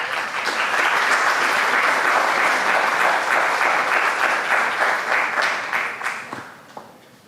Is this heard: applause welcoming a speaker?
yes